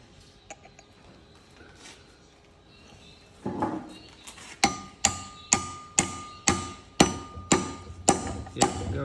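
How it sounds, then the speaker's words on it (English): Hammer blows drive a spigot bearing out with packed white bread, a run of about nine sharp, evenly spaced metallic strikes ringing close and loud after a softer shuffling start. "That's it. Hammer again."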